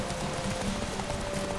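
Rapid clip-clopping horse hooves gallop steadily beneath a constant noisy background, with no pauses, in the video game The Witcher 3.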